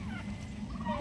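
Hybrid male turkey, about seven months old and around 9 kilos, gobbling close by in a brief, throaty burst with a second rattling call near the end, over a steady low background rumble.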